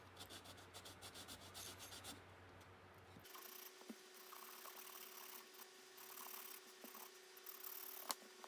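Fine wooden stagecoach model kit detail being hand-sanded with a 600 grit foam-backed sanding block: soft, close, steady rasping strokes, faint and alone.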